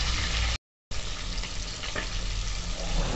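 Pomfret fish fry in very hot oil, giving a loud, close, unbroken sizzling hiss with a brief cut of silence early on, and no voices over it.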